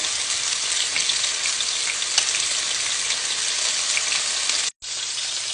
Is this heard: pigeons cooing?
no